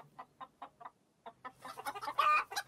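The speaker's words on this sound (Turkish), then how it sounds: "Burada tavuk var." Several chickens cluck in a farmyard coop in a children's cartoon: a run of short, evenly spaced clucks, then a busier overlapping burst of louder clucking and squawks near the end.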